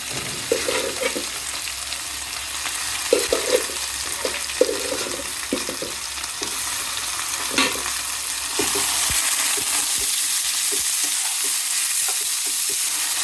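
Bottle gourd greens go into a pan of browned onions and fry with a close sizzle, punctuated by spoon knocks and stirring, growing louder and more even toward the end.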